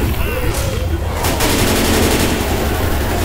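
Dense, loud gunfire fills Left 4 Dead 2 without a break, a continuous close barrage of overlapping shots forming a thick wall of noise.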